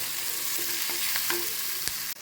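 Onions with salt sizzle and fry in a hot pan while a spatula scrapes and stirs them in a few quick strokes, a close, steady crackle with brief clinks, and no one speaking.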